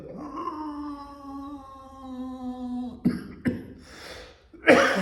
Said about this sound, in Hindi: ऐसी खांसी उठेगी आपको जब नई बार करेंगे आप